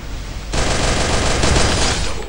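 Rapid automatic gunfire in a shooting video game, a loud continuous burst starting after a brief moment and holding for about two seconds, close and dense.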